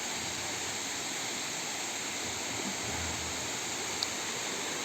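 Continuous broadband rushing of Güzeldere Waterfall in Düzce, Turkey, steady and enveloping, with no other distinct sounds.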